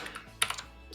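Keys clatter on a computer keyboard in a short, close burst of a few uneven strokes, with one sharper press standing out in the middle, and no voices over it.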